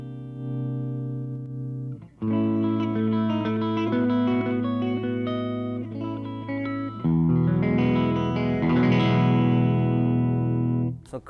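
Blackstar HT-1R 1-watt guitar amplifier on its clean channel, with ringing sustained chords and arpeggiated notes with reverb, loud and close, with no talking.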